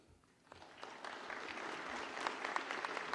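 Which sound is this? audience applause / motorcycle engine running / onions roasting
audience applause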